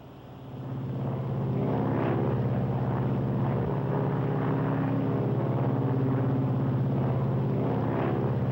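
An aircraft on landing approach with its landing gear being lowered gives a loud, steady engine drone that swells during the first second and then holds constant throughout.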